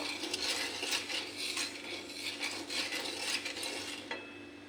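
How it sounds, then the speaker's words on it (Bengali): Semolina dry-roasted in a hot wok with no oil, a spoon or spatula scraping and stirring in repeated rhythmic strokes, close and steady, fading slightly at the end. "শুকনো কড়াইতে আমি ওটা ভাজা করে নেব"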